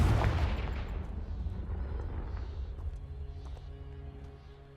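The Confringo blasting spell explodes in Hogwarts Legacy, a single loud booming blast at the start that rolls off into a long fading rumble with scattered debris sounds.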